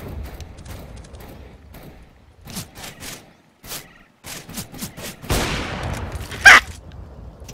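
Video game gunfight with repeated sharp gunshots in irregular bursts, loud and close, separated by brief pauses.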